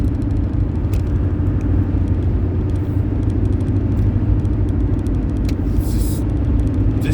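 Road traffic heard from inside a moving car, a loud, steady low rumble of engine and tyres with faint clicks and rattles above it and no voices.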